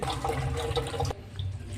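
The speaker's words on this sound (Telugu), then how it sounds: "నీళ్ళు మాత్రం కొన్ని పోసుకొని నానబెట్టుకోవాలి" Water pours over a lemon-sized lump of washed tamarind set to soak in a home kitchen, a steady close rush that drops to a quieter trickle partway through.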